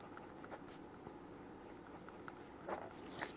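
Pen or chalk scratching out a math problem, a run of quick, soft, irregular strokes and taps, close and faint with no talking.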